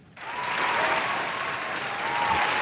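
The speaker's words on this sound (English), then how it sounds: "let me hit the round of applause for the Billboard list" A canned round-of-applause sound effect plays on a podcast, a dense, steady crowd clapping that starts abruptly and holds at an even level throughout.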